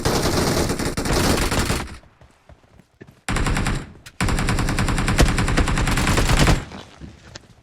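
Video game gunfire bursts in rapid automatic rattles, loud and close, stopping for a near-silent gap before resuming in long continuous strings with no one talking.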